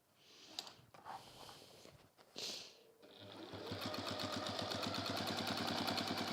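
A sewing machine top-stitches a fabric bag. Brief handling noises and shuffling come first, then the motor starts and runs in a fast, even, close stitching rhythm that keeps going to the end.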